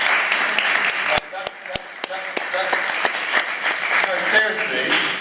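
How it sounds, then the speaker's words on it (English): An audience at a film event in Lausanne claps, a dense burst of applause that briefly thins and then carries on steadily, with a voice talking over it. "a round of applause for this man"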